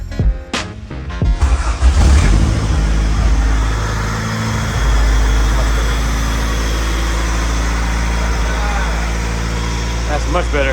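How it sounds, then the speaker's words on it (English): Honda B20 engine running in a sedan after a swap, starting with a few loud bursts before settling into a steady, strong low rumble that fills the whole stretch, close to the microphone. "Well, at least the motor turns over and runs"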